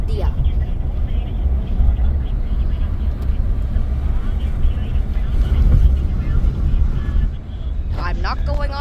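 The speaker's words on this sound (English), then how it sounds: "There's a plane. Which airline is that? I think it's a Boeing 737." Frontier Boeing 737 airliner passing overhead, a broad low jet roar near a San Francisco-area train station, steady throughout with a voice talking briefly near the end.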